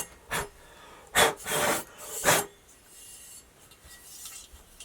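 A sanding beam levels the frets of a Charvel Charvette 270 guitar in three or four short, raspy rubbing strokes close by, followed by quieter scraping.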